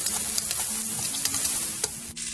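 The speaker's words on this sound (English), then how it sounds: "I'm going to add in these 2 chopped onions." Two chopped onions hit hot oil in a pan for spicy Saoji chicken curry, giving a loud, steady close-up sizzle with small crackles throughout and a brief dip near the end.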